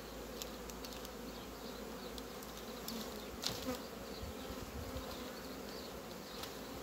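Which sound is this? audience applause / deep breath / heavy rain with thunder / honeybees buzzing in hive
honeybees buzzing in hive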